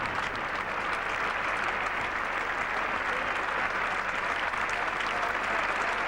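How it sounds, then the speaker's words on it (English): Cricket crowd applauding at Edgbaston during the 1981 England v Australia fourth Test, a dense, even, sustained ovation from a large stadium crowd with no break, rolling on at steady loudness throughout. "And the Australians joining in the applause generously"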